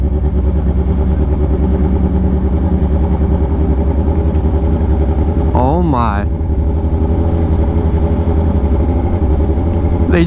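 A Kawasaki Ninja H2 motorcycle rides among Lamborghinis, its engine a loud, steady, close drone throughout, with someone briefly speaking over it.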